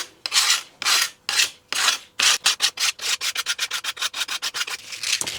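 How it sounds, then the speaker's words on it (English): A steel card scraper rasps along a wooden baton sling shaft in a rhythmic series of strokes, slow long pulls at first and then quicker, shorter passes, close and loud with no talk. "I'm just using a card scraper now to take down the high spots on this shaft"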